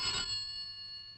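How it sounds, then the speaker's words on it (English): Telephone rings once at midnight, a bright metallic bell burst that quickly decays into a sustained fading tone, close and alone. "A phone call."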